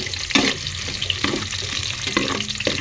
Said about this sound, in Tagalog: pag nagsisigang ako, ginigisa ko muna para malapot ang sabaw